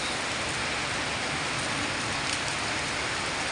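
Heavy typhoon rain pours down steadily as a dense, unbroken roar of falling water close by, with no voices over the constant downpour.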